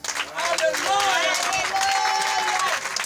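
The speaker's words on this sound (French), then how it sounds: "Et je veux qu'on les acclame très fort." Church congregation applauding and cheering loudly, dense clapping with voices and shouts rising together throughout, close and full.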